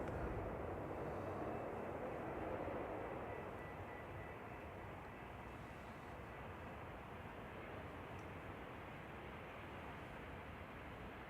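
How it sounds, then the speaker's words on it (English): A Swiss Airbus A220 airliner passes by near Manchester Airport, a broad steady engine roar that peaks early and then settles into a constant distant rumble, with no voices over it. "So you probably saw there Swiss heading down in the Airbus A220."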